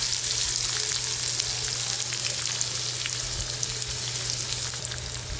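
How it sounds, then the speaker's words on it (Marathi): Green chilies, crushed garlic and chopped onion fry in hot oil, giving a steady, dense sizzle that stays close and loud from start to finish without letup. "हिरव्या मिरच्या चांगल्या तेलामध्ये असं फ्राय करून घेतल्या, तळून घेतल्या"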